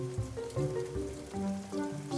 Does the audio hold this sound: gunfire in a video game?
no